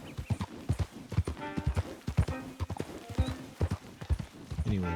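Horse hooves clip-clop in the Red Dead Redemption 2 video game, a steady rhythmic trot close by, mixed with game sounds and a brief whinny, with someone speaking over it at times.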